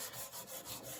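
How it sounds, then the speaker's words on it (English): Sandpaper rubbed back and forth over an engine gasket surface laid on a granite slab, a close, steady abrasive scratching in even repeated strokes with no talking. "Just gonna work this sandpaper on top of this"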